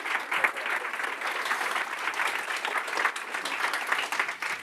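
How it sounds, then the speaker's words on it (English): A conference audience claps for a panel of speakers, a dense, even burst of applause lasting several seconds with no cheering above it. "Round of applause for our panel, please."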